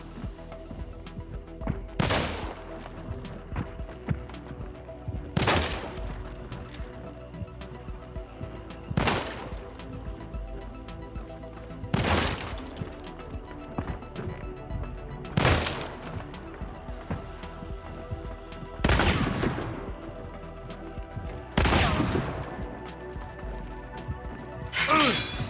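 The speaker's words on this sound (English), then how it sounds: "My partner essentially lays down distracting and suppressive fire up at them to keep them occupied" Suppressive gunfire in the video game Hunt: Showdown: about seven loud, sharp single shots spaced a few seconds apart at a steady rhythm, each ringing out briefly over a quiet background.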